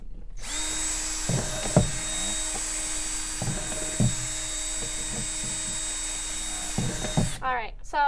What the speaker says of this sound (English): I'm gonna drill some more holes here